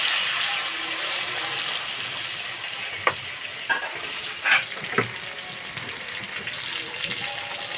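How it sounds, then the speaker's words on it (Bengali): Pointed gourd (potol) pieces frying in hot oil give a steady close sizzle, broken by a few sharp clicks and clatters of stirring. "পটলগুলো একবারে লাল লাল করে ভেজে নেব।"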